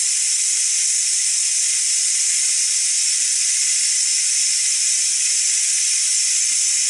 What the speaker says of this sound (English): I'm going to turn on the valve to release the steam.